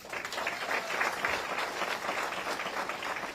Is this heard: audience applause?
yes